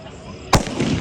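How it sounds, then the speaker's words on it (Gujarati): A single sharp firecracker bang bursts out close by, followed by a brief rumbling echo over low background noise. "બીજી બાજુ અહીંયા એક જગ્યાએ ફટાકડા ફૂટે છે"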